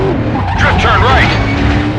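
A car drifts through a turn in the PS2 stunt-driving game Stuntman: Ignition, its engine roaring loud and steady while the tires squeal and skid across the full stretch.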